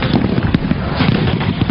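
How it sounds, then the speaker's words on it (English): A dense, continuous crackle of fireworks, loud and close, with overlapping pops and bangs filling the whole moment. "The fireworks went off,"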